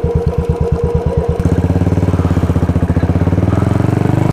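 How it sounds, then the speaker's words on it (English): A modified Bullet motorcycle on an off-road ride, its single-cylinder engine thumping loud and close, slow even beats at first, then the throttle opens and the pulses quicken into a rapid, rising chug. "We are really enjoying the off-road ride of my modified bullet"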